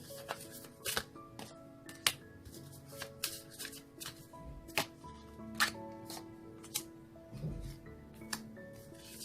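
Cards riffle and snap in quick irregular bursts, close up and crisp, with light clicks and taps in between and no talking.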